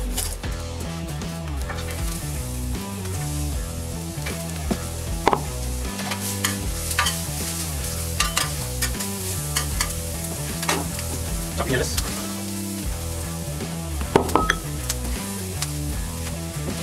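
Longaniza sausage, peppers, mushrooms and onion sizzle on a stainless steel griddle in a loud, steady, crackling hiss, broken by sharp scrapes and clinks of stirring throughout, with no voices.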